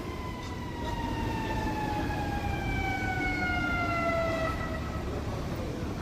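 An ambulance siren arrives at the scene of a car and e-bike crash in traffic, wailing with falling, repeating tones. It sounds steady and fairly near over a constant rumble of traffic.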